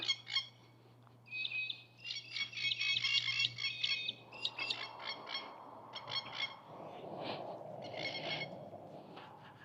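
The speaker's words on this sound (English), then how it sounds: "The plovers going off," Shrill, repeated plover calls chatter loudly near the microphone in rapid bursts in Innisfail, Australia, fading later under a low rumbling background.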